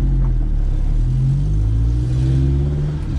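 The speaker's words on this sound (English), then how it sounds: "I do have a bad exhaust leak on this car too" A Honda EF hatchback with a bad exhaust leak idles and revs close by, giving a steady, loud, low rumble with rising engine tones.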